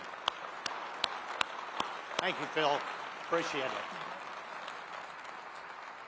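Scattered claps and a soft crowd wash come from the audience at Boeing's ceremony delivering the final commercial 747 jumbo jet; the applause stays faint and distant while someone speaks over it.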